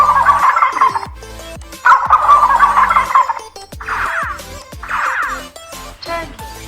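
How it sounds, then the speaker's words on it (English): Turkey gobbling in two loud rattling bursts, then a pair of shorter warbling calls and a faint final trill, heard alone with no voices. "turkey, turkey, goat"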